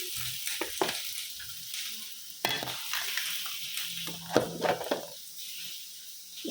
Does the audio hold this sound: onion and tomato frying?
yes